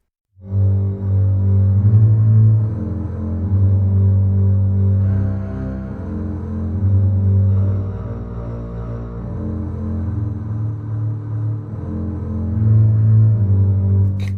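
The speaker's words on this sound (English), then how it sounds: "that's what the bass sounds like" A deep synthesized bass plays a slow sustained line, low and humming, with notes swelling and shifting steadily, alone without voices.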